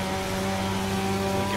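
The Mazda FD engine drones steadily at the Nordschleife in Assetto Corsa, a constant close tonal hum with strong harmonics held throughout the brief moment.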